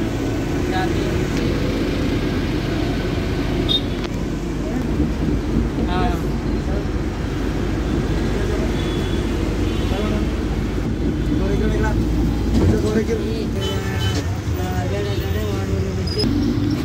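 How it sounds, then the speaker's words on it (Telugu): A Hyderabad city bus climbs the Tolichowki flyover with a steady low engine and road rumble, while wind buffets the microphone throughout and faint voices come and go in the background. "బస్సు ఫ్లైఓవర్ ఎక్కింది"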